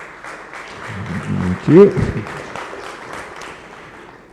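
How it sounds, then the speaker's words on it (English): An audience at a European AI and robotics conference applauds for a speaker, moderate clapping under a brief spoken thank-you from the host. "Please, an applause for him."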